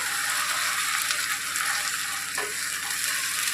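Spice paste for chicken curry (lal jhol) frying in a pan, a loud, steady, dense sizzle with light stirring scrapes, close and continuous with no voices.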